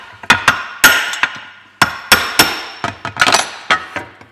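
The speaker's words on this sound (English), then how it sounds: "You can easily tap the old one out." An old crankshaft front oil seal being tapped out of a Ford Mondeo Mk3 2.0 Duratec engine during timing chain work, with a quick irregular series of sharp metallic hammer taps, close and loud, with brief pauses between bursts.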